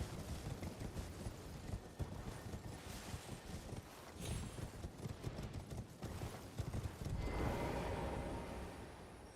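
Hooves clip-clop from a horned goat-like horse mount in the video game Elden Ring, a steady near trotting rhythm over busy game noise, with a louder rushing burst near the end.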